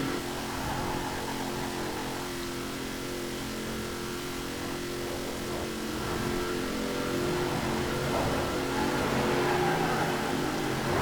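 A 2019 Chevrolet Corvette ZR1 in Forza Horizon 4 strains uphill, its engine droning steadily at high revs without much change in pitch, loud and continuous throughout.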